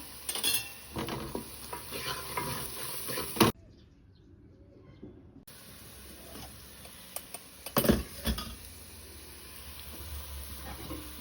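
Ground spices including turmeric, chilli, cumin and coriander powder are stir-fried in a pan, with repeated metallic scraping and clinking of a spatula over a light sizzle, interrupted by a brief silent gap.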